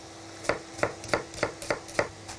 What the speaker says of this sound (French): On le coupe grossièrement.